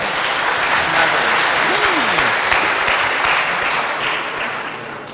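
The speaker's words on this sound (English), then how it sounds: "Can we have a round of applause" Dense, sustained applause from a conference audience at a lightning talk session, loud and steady throughout and tapering slightly at the end, with a brief voice faintly audible underneath.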